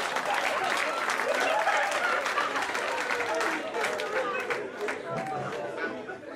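Live audience at a stand-up comedy quiz bit claps and cheers steadily for several seconds, a dense broadband wash of applause mixed with crowd chatter that eases slightly toward the end.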